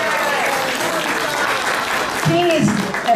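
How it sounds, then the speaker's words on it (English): A big round of applause from the audience at a UN high-level side event, dense and steady throughout, loud and close, with a voice briefly speaking over it near the end. "So give her a big round of applause too."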